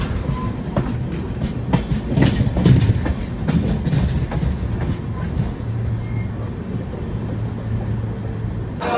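Inside the 12434 Rajdhani Express, a steady rumble of the moving train carries rhythmic clickety-clack from the wheels over the rail joints. A few faint voices sit under the noise.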